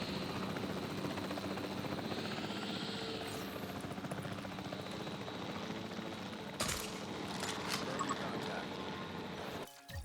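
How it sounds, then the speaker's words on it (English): Helicopter rotor thrum from the video game Jurassic World Evolution 3 during a dinosaur capture, a continuous chopping drone at moderate level with brief game sound effects breaking in near the end. "manually control the helicopters to capture every dinosaur"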